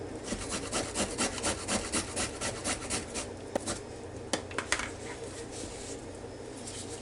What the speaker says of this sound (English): I have this little bitty grater